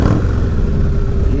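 A Harley-Davidson motorcycle engine revs hard in a brief, loud, close-up burst of throaty rumble with no talking.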